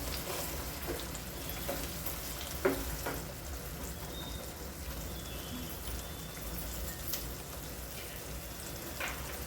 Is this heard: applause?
no